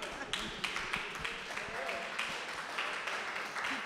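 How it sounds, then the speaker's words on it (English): An audience at a talk for artists claps steadily, a moderate spread of hand claps filling the room at even loudness, with some murmuring underneath. "Somebody, go ahead and clap."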